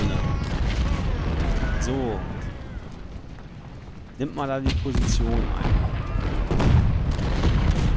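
Cannon and artillery fire rumble continuously through an American Civil War strategy game battle, dense booming blasts layered with battle noise, while someone talks over it throughout.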